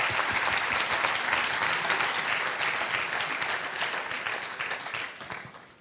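Sustained applause from a conference audience, dense and even clapping that holds steady before tapering off at the end of an event on generative AI transforming professions.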